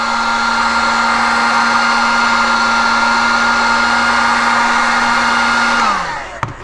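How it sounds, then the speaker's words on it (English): A heat gun blows a loud, steady whirring roar while warming a sourwood arrow shaft for straightening, then winds down as it is switched off near the end. "I do all my straightening with a heat gun"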